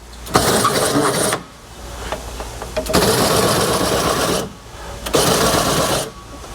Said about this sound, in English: that thing's shaving, but it keeps going because it spins for that half a second longer and takes the pressure off